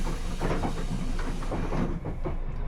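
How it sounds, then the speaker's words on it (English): A London Underground Metropolitan Line train bound for Uxbridge rumbles past, heard from a driving cab in the rain, a close, steady roar with clattering rail noise throughout the short stretch. "That's a Metropolitan Line train going to Uxbridge."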